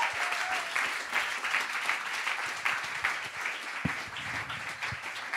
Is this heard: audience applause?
yes